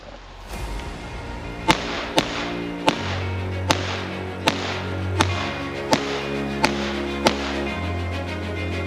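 Nine sharp, muffled pops from a suppressed .22 LR pistol, fired one at a time at a steady, slightly uneven pace, fairly close, with no talking.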